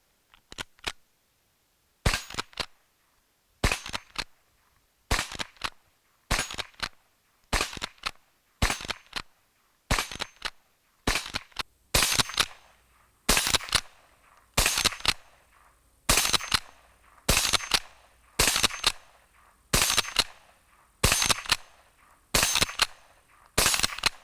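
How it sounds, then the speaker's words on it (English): Single shots from a 1909 Winchester Model 06 pump-action .22LR rifle at a shooting range, a long steady series of about twenty sharp, close cracks spaced roughly a second apart, with faint mechanical clacks between them. "I took this thing to the range and I was pleasantly surprised how much fun this thing was to shoot"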